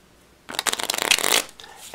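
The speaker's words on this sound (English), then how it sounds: "We'll give the deck a shuffle." A deck of playing cards being shuffled for a mathematical card trick: a quick, close run of crisp riffling flutters lasting about a second, with no talk over it.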